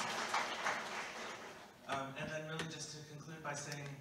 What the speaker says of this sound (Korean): 압세유에게 큰 박수 부탁드립니다.